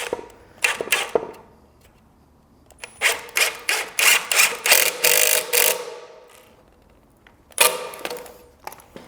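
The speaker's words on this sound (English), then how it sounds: "set the piece upside down, flat against the ground, and set the screw" A screw is driven into a work stool frame held upside down on the floor, with bursts of rapid ratcheting clicks from the driver in short repeated pulls, close and fairly loud, separated by quieter pauses.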